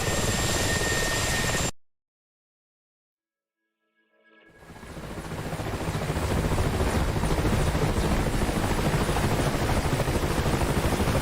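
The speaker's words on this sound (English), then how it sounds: "Looks like Sven with the Mi-24 must have got him with an ATGM." An Mi-24 helicopter in a combat video game cuts out briefly to silence, then its loud whirring rotor and engine noise swells back in and holds steady and dense.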